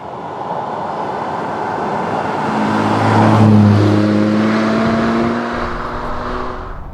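A Jaguar V12 car engine with a manual conversion runs steadily while driving, a smooth low hum that swells louder mid-clip as revs rise, then eases back, with no talking.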